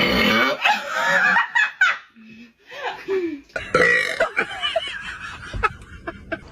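Several people burp loudly one after another, some of them women, with laughter and giggling breaking in between the belches.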